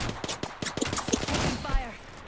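Gunfire in the Apex Legends video game, a rapid string of sharp shots in the first half, then a voice speaks over the continuing game noise.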